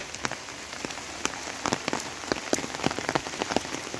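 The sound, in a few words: heavy rain falling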